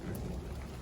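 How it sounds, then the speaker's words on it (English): A low, deep rumble of thunder rolls in the distance, mixed with a soft hiss of rain. "You can probably hear the thunder in the background,"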